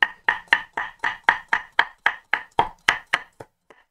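A knife chops food on a cutting board in about fourteen quick, evenly spaced strokes, each a crisp close knock, slowing and fading into a couple of lighter taps at the end.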